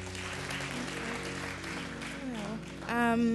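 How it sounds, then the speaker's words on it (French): A church congregation claps together during a worship service. The applause is moderate and mixed with music and voices, and a voice rises clearly near the end. "On applaudit Jésus."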